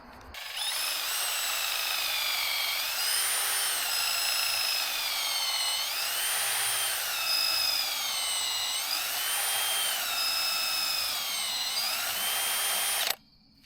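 A high-pitched whining drill runs continuously, its pitch dipping and rising in a repeating pattern as it bores, then cuts off abruptly.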